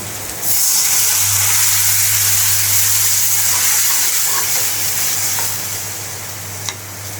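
Turmeric and chili go into dried lotia fish frying with jackfruit seeds, setting off a sudden loud hissing sizzle that holds steady, then slowly eases, with a single sharp clink near the end.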